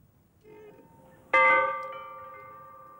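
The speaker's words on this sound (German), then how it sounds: "Die Glocken darin läuten alle 30 Sekunden zum Gedenken." A memorial bell hangs inside a standing chimney at Khatyn and rings with a single clear metallic strike that leaves a long, slowly fading ring after a faint earlier tone.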